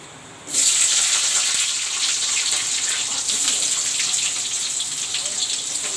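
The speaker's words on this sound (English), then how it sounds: "Now I will put the onion and the green chili." Sliced onion and green chili dropped into hot oil for moong dal and kundru bhaja, an abrupt loud sizzle that settles into a steady close crackling hiss.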